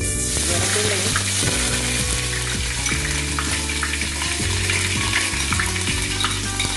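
Ginger sizzles steadily in hot oil where mustard seeds have just popped, an even frying hiss for a Kerala-style pepper chicken, heard close and loud under continuous background music.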